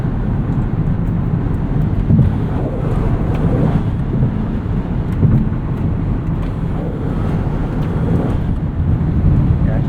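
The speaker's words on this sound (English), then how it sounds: "Getting a little bit of wind noise from the sunroof." Wind rushes past the sunroof of a 2025 Lexus UX 300h F Sport Handling while it drives, a constant low roar of airflow and road noise with no pauses.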